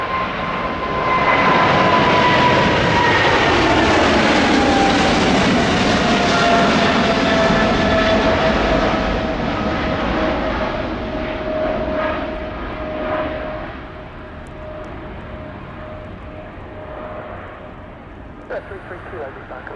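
A heavy jet departing Heathrow's runway 09 left roars loud and up close, holding a broad, sustained rumble with a falling whine before gradually fading as it climbs away.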